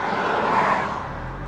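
Car passing by on a road at speed, a loud whooshing rush that swells and fades within a second or so, heard close by with no talk.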